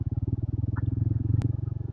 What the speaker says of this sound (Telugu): చాలా ఇబ్బంది పడుతుంది బైక్,